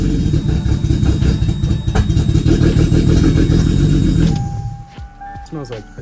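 A Toyota 2JZ engine in a Lexus GS300 runs right after fuel-injector cleaning, a loud, steady close-up rumble that cuts off about four seconds in, leaving quieter clicks and movement afterward.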